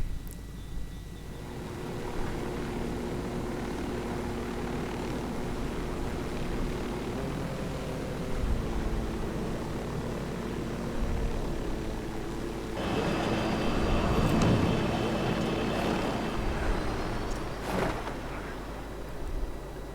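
Steady mechanical rotor-like drone of a helicopter in the video game Ghost Recon Wildlands, with engine rumble throughout, swelling louder in the second half with added broadband whooshing, no voices.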